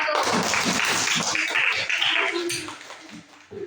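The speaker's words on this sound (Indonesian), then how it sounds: "Tepuk tangan untuk kelompok 1." Schoolchildren in a classroom clap for the first group after its performance, a busy burst of many hands that fades over a few seconds, with a voice breaking in briefly.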